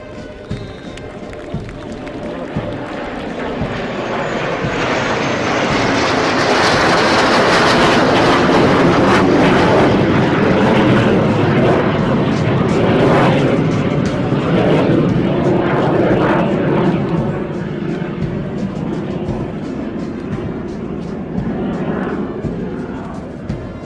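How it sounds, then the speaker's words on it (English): A formation of three Kiran jet aircraft passes over an air force academy graduation parade, a loud roar that swells as they approach and slowly fades, with announcer talk faintly beneath. "may I direct your attention to the 3 Kiran aircraft formation led by Group Captain Yasir Farooqi"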